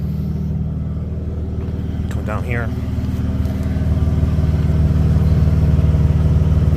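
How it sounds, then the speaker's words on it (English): Exhaust note of an engine in a former trash-hauling truck running steadily, with a low rumbling drone that grows a little louder toward the end while someone talks briefly over it. "you can hear the exhaust."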